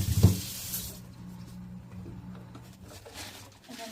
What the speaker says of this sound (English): We're going to take this out. Drain the water a bit. And we're going to rinse off the items to make sure all the debris is off and everything.